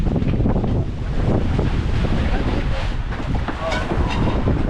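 Wind gusting across a microphone at an outdoor riverside spot, a loud, continuous buffeting roar with rumbling low-end bursts throughout.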